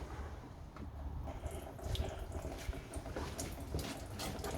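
Water runs steadily onto a loaded cider press of cheap Chinese make, a continuous broadband splashing and trickling close by with a few louder surges, no talk.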